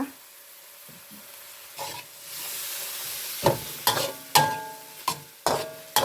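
Pork stir-fried with chili and kaffir lime leaves in a wok, with a spatula scraping and stirring in sharp repeated strokes over a steady sizzle that grows louder and busier toward the end.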